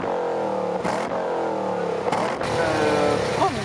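A modified V8 sports car engine with reworked intake and exhaust, tuned to about 500 horsepower, revs at a car show, its tone climbing and falling through several close, loud throttle blips with no talk over it.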